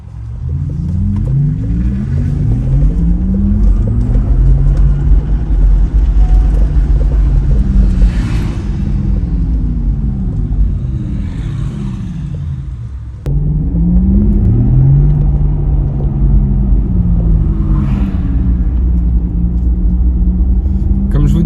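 Artificial electric drive sound of a Porsche Taycan 4S, heard from inside the moving car as loud, smoothly sweeping synthetic tones that rise and fall continuously over a low road rumble, briefly dipping before resuming.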